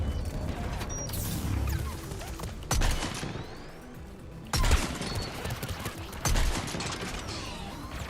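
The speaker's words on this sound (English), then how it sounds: "Did I just shoot the rocket out of the sky?" Gunfire from the Mass Effect 3 video game shoots a rocket out of the sky, heard as sustained rattling bursts with several louder crashing hits under a dense, noisy battle mix, and no talking over it.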